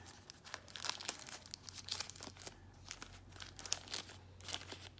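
A plastic bag holding a DJI Osmo Pocket case crinkles softly as it is opened, a faint, irregular rustle of quick crackles continuing throughout.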